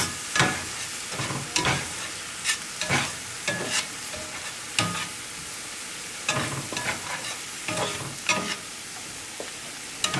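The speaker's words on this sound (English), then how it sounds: "All we're doing is softening and cooking the vegetables." Vegetables softening in butter in a pan on medium-high heat for sloppy joes, a steady sizzle broken by repeated scrapes and clacks of a utensil stirring at an irregular pace, fairly close, with no one talking.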